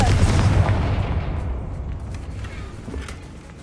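A Confringo fire spell blasts in Hogwarts Legacy on PC: a heavy, booming explosion at the start that rumbles and decays over a few seconds, loud and close, with no talk over it.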